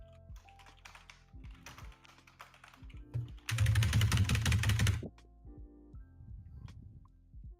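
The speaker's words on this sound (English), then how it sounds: "What's he typing?" Typing on a computer keyboard: scattered key clicks early on, then a dense, loud burst of rapid typing lasting about a second and a half, followed by a few more taps.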